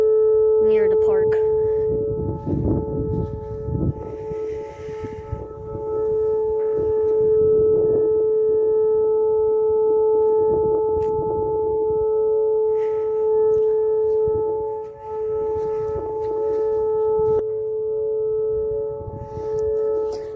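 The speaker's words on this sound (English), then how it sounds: "The siren is somewhere all the way over there," Oklahoma tornado warning siren wailing far off as a steady, sustained multi-tone drone with slight swells, heard under outdoor ambience and scattered nearby talking.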